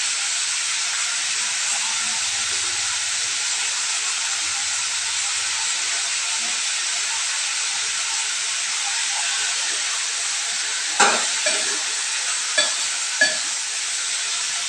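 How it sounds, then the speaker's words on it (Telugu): Green chilies and tomatoes cooking in a pan make a loud, constant hiss and sizzle, joined near the end by a few brief scrapes or taps of a spoon. "ఇవి పచ్చిమిరపకాయలు టమాటాలు ఉడకబెట్టుకోవాలి."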